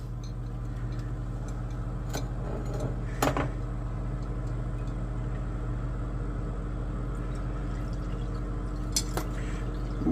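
Liquid from a gold solution drips through a filter in slow, irregular single drops and faint ticks over a steady low hum, with a few brighter, sharper drips standing out now and then.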